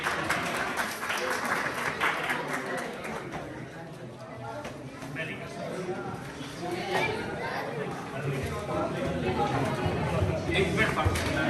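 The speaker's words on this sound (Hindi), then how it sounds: "जोरदार ताली दीजिए" Sustained applause from the congregation at a Christmas 2021 gathering in St Francis of Assisi Urdu Church, Antwerp: a rattling spread of many hands clapping, mixed with chatter and voices, swelling slightly toward the end.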